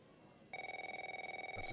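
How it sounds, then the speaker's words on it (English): A telephone rings with a steady, rapid electronic trill that starts abruptly partway through and continues, fairly loud and close, over quiet room noise. "my phone's ringing off the hook this morning"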